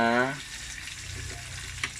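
Pork sizzles and fries in its own rendered fat, a dense crackling sizzle broken by the scrape of stirring, with a brief tone at the start.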